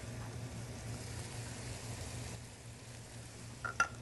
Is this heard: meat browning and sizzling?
yes